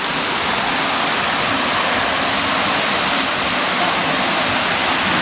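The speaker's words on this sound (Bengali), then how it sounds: "এই যে রান্নার পাশে ঝর্ণা" Wang Pa waterfall in Bandarban roars in a dense, unbroken hiss of rushing water, loud and steady throughout, with no voices.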